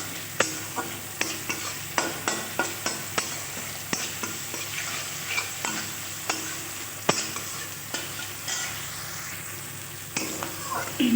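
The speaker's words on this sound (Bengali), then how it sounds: "ভালো করে মশলাটা কষিয়ে নিতে হবে" Spice paste for a broccoli and potato dish being fried and stirred in a pan over raised gas heat, with a steady sizzle and a regular scraping rhythm of a spoon against the pan, close and prominent throughout.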